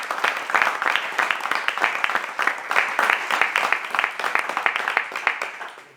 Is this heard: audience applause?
yes